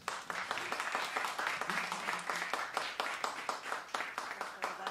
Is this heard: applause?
yes